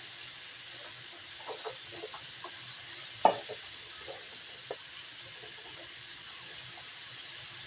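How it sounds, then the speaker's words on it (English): Canned black beans rinsed under a running kitchen tap: a steady, soft hiss of flowing water with a few light clinks and knocks, continuing throughout with no talking. "I'm going to rinse them off. Let them rinse off quick."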